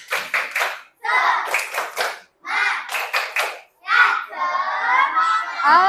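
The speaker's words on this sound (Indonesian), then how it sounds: "Ulangi coba. Tepuk semangat." Children in an Indonesian classroom clap in a quick rhythmic pattern while shouting a chant together, in several loud bursts with short pauses, ending in sustained overlapping voices.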